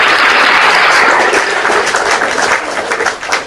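A church congregation bursts into dense, loud applause, many hands clapping at once as a continuous wash that gradually tapers off toward the end.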